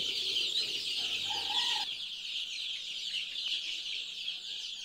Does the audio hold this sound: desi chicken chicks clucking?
yes